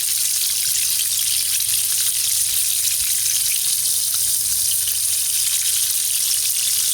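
Cauliflower deep-fries in hot oil, giving an even, continuous hissing sizzle with a low hum beneath, steady throughout and close by.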